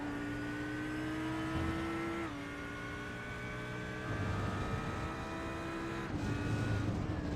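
On-board engine of an Audi GT3 race car in a racing video game, run on a California circuit: a loud, steady high-revving drone that climbs, drops sharply at gear shifts around two and six seconds, then climbs again.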